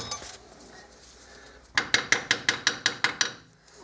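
Eight sharp metallic hammer blows ring out in a steady rhythm, close by, on a corroded front brake part of a Fiat Fiorino, after a stretch of low workshop noise.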